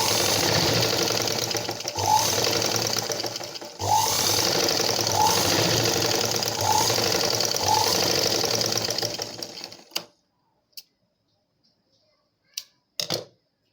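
A sewing machine runs steadily for about ten seconds, stitching a thin edge along one side of a blouse. It stops abruptly and a few faint clicks and handling taps follow in near silence.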